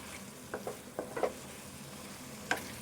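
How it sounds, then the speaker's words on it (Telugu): Chicken fry for a Telugu dish sizzles quietly in a pan while a spoon stirs it, a few soft scrapes and a sharper clink near the end over a low continuous hiss, close and without talk. "ఇది ఇంకా వేగాలి, దగ్గర వేపుకోవాలి."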